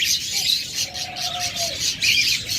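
Pet budgerigars or cockatiels in a breeder's sale enclosure chirp and twitter continuously, a dense bright chatter of many small birds close by with a few longer whistled calls, no voices.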